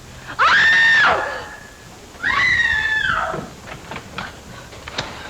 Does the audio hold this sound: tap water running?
no